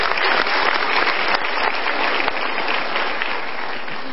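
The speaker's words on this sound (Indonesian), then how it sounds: "Kita berikan tepuk tangan sekali lagi." Studio audience applause on an Indonesian motivational talk show, a dense, sustained wash of many hands clapping at steady loudness for several seconds.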